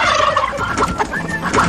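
A rooster's warbling, gobbling call, close and fairly loud, lasting a moment with a few rising and falling notes, in a village.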